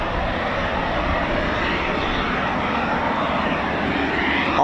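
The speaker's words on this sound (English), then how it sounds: "You can hear the wonderful Eurojet EJ200 engines just spooling and starting up." Eurofighter Typhoon FGR4 jets with Eurojet EJ200 engines spool up at RAF Coningsby, a steady, loud, broadband roar that holds without a break, heard from fairly close with no voices.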